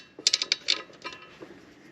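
Metal washer set onto a bolt while fitting TAC bars to a Ford F150 truck. A few quick, light metallic clicks and taps sound close by, then fade to faint handling noise.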